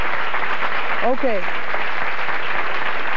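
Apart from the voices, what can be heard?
studio audience applause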